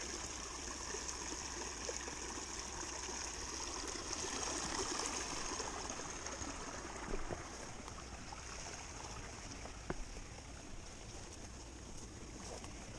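A mountain stream flows beside a narrow hiking trail through a ravine in the Sierra de Espadán, a steady, soft rushing of water with no talk.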